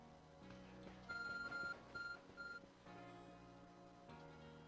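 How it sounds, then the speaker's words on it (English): Electronic phone beeping in the video game Pokemon Legends Arceus, a few bright repeated tones in short bursts over steady game background music. "phone is beeping."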